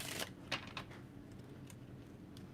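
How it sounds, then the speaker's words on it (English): Tarot cards shuffled by hand during a reading, giving a few crisp riffling bursts near the start and then fading into soft, faint handling noise. "shuffling the cards"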